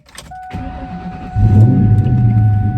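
A Bullitt car engine with new performance modifications cranks and starts, then settles into a steady low idle, with a faint electrical whine running through.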